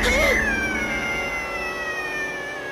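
A kitten's crying, pitched like a wailing baby, rises in a FNAF-style restaurant horror game, set against a steady synthetic hum with sustained high tones sliding slowly downward.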